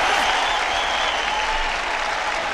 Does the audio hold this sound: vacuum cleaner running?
no